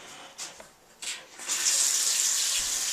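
Water runs from a tap indoors: a few short splashes and clinks, then a steady, fairly loud stream that keeps flowing to the end.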